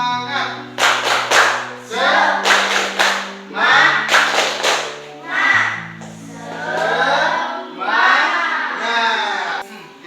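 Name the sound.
classroom children clapping a spirit clap chant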